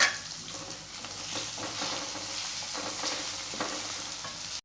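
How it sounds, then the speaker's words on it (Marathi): Pieces of bitter gourd, with ground coconut added, fry and sizzle steadily in hot oil, a continuous close hiss broken by a few soft stirring scrapes. "हे 2 मिनिट कारले तेलामध्ये परतून घेतल्यानंतर"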